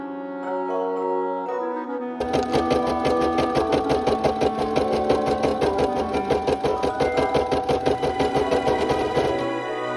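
An embroidery machine sews a satin stitch, starting after a brief quiet lead-in with a fast, steady, loud mechanical rattle that keeps a tight even rhythm for several seconds before stopping.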